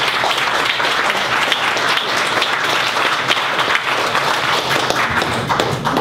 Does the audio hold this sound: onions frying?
no